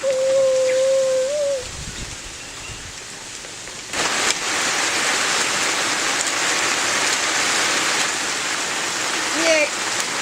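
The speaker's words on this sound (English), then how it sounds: "Where Tropical Storm Flossie is lashing with high wind." Heavy rain from Tropical Storm Flossie pours down in a steady loud hiss that swells after a few seconds, with a brief tone early on and a faint bird call near the end.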